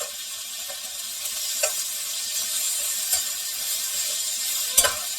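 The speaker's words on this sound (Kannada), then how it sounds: "ಬೆಳ್ಳುಳ್ಳಿ ಮತ್ತು ಶುಂಠಿ ಕೂಡ ಹಾಕೊಂಡ್ಬಿಟ್ಟು ನೀರು ಫ್ರೈ ಮಾಡ್ಕೊಳ್ಳೋಣ" Garlic and ginger fry in a hot pan for masala poori with a steady, close sizzle, broken by a few sharp clicks of a spatula stirring against the pan.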